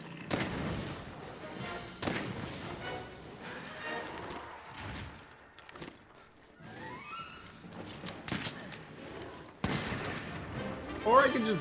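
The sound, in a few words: tranquilizer ammo gunshots in video game Monster Hunter World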